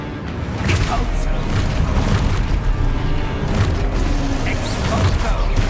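Depulso spell in Hogwarts Legacy: a continuous loud roar of magical blasts and rumbling booms with bright bursts throughout a chaotic fight, close and dense, with combat shouts mixed in.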